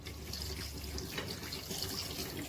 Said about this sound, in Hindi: तो अब इसमें डालेंगे थोड़ा सा पानी,